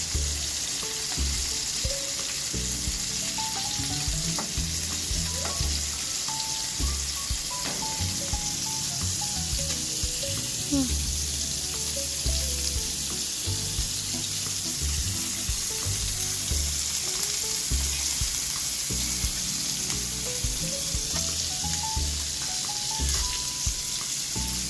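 Flour-coated galunggong fish fry in hot oil, giving a steady, close sizzle with crackling pops that runs alone the whole time.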